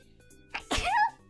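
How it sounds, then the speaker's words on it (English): A single close, sharp human sneeze: a short indrawn breath, then a loud explosive burst that trails into a brief vocal tail, in a quiet room with no other talk. "I have to sneeze."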